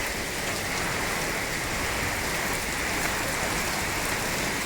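Steady rain pours down during the rainy season in a Thai vegetable-growing area, a dense, even hiss of drops on surfaces that holds at constant loudness throughout, with no voices.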